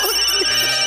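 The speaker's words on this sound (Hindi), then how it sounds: "फोन बजा है" A telephone rings loudly and steadily in a domestic scene, a continuous electronic ringing tone filling the short moment with no talking over it.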